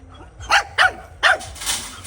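A dog outdoors at a pigeon farm barks close by in three or four sharp, separate bursts, with no talk over it.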